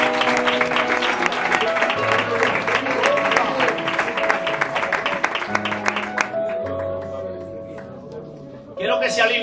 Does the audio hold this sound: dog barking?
no